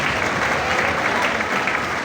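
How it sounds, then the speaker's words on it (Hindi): A congregation at a closing Holy Mass at a Marian national shrine gives a brief, steady burst of dense applause. "आप सबकी भरपूर तालियों में खुशामदीद कहते हैं।"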